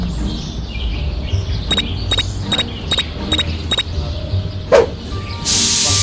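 Spray paint hissing from a can in Scary Teacher 3D, a short series of quick electronic chirps followed by a loud, steady spray hiss at the end.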